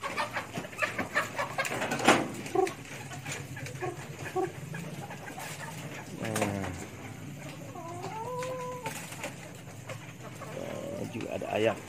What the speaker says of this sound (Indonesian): Juga ada ayam.